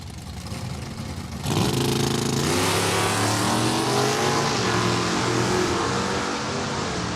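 A Mustang drag race car launches hard down the track at Saskatchewan International Raceway, its loud engine bursting in suddenly after a quieter lead-in and holding a steady, roaring pull as it accelerates away.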